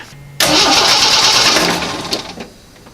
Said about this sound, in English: I pulled the fuel line loose here and I gave it a crank, and I had fuel come out